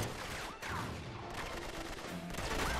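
Rapid bursts of gunfire from an Uncharted 3 firefight, a dense, continuous barrage of loud shots and impacts filling the whole stretch with no pauses.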